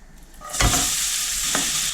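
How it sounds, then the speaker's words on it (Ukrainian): Chopped onion hits hot lard in a pan and bursts into a loud, close sizzle that settles into steady frying, with a light stirring scrape partway through and no talking. "Половину цибулі відправляю смажитися"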